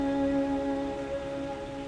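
Steady rain falls continuously in a drama scene, a dense even patter with a faint tonal hum beneath and no voices.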